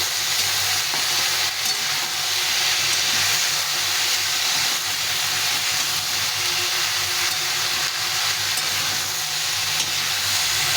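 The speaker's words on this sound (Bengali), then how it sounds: "এটাকে ভালো করে মিশিয়ে দিতে হবে" Vegetables with salt and turmeric are stirred in a hot pan, a steady, loud, close sizzling hiss running unbroken throughout.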